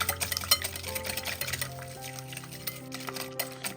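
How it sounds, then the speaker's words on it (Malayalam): A spoon or whisk beating a sugar mixture in a bowl, a steady run of quick, close scraping and clinking strokes that continues throughout at a moderate level, with a faint tonal hum underneath. "ഒരു സ്പൂൺ വെച്ചിട്ടോ അല്ലെങ്കിൽ ഒരു വിസ്ക് വെച്ചിട്ടോ ഇതുപോലെ ഒന്ന് അടിച്ചെടുക്കുക"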